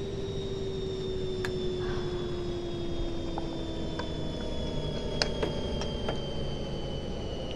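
A New Jersey Transit diesel locomotive engine in Train Simulator 2016 drones steadily with a sustained whining tone, joined by a few faint clicks and ticks.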